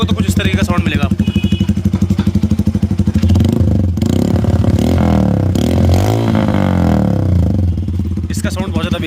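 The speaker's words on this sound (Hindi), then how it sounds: "ये इसका आइडल पर साउंड है, यानी जब आप बाइक स्टार्ट करोगे तो कुछ इस तरीके का साउंड मिलेगा आपको।" A 2022 Hero Passion Pro BS6 motorcycle fitted with an SC Project exhaust idles close by, its rapid, even putter steady at first, then a deeper, bassier rumble blips up and settles.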